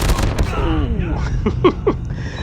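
Hip-fired bursts from an M4LMG light machine gun in the mobile shooter Call of Duty Mobile, a few sharp shots in quick succession over a busy, dense game soundscape.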